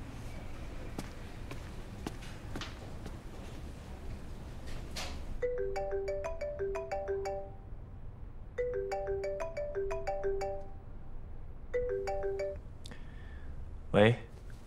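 A phone ringtone plays a repeating tonal melody in three separate bursts over a low background murmur, ending with a brief louder sound.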